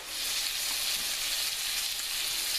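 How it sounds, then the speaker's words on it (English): Steady, close sizzling of chicken frying in hot olive oil, continuous and even throughout. "You want it sizzling."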